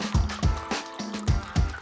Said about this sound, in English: Then pour in your favorite drink.